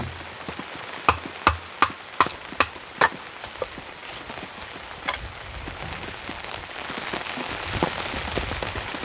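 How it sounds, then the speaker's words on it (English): Rain patters steadily on a campsite during a heavy rainstorm, with a few sharp knocks near the start, then a soft continuous hiss of falling drops. "Beautiful rain sound."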